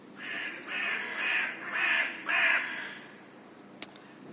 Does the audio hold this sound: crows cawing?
yes